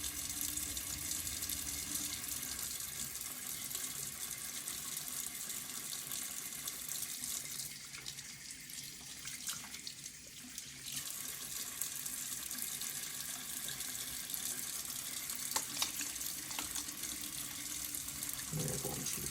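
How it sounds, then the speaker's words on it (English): Tap water runs steadily from a faucet into a sink, a continuous close splashing hiss that lasts throughout with only slight dips and no talk. "first we're going to turn the water on and let it come up to a lukewarm temperature."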